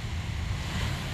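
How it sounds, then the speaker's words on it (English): Water rushes and roars as it pours into Lake Wilhelm at Maurice K. Goddard State Park in Mercer County, Pennsylvania, a steady, fairly faint wash with no voices over it. "Like how the water just filters right into there. You can hear it roar."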